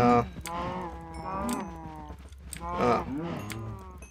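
Cows in a video game moo repeatedly, several drawn-out harmonic lows overlapping one another, near and fairly loud, under a steady game background.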